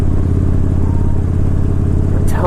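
A big 103 motorcycle engine running with a loud, steady low rumble and a throbbing idle pulse, close up and continuous, with a brief higher rattle at the very end.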